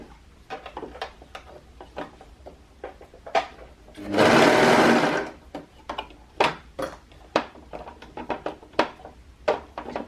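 A sewing machine stitching a pants opening closed runs in short ticking bursts, with a louder sustained run of stitching in the middle, close and alone with no talk.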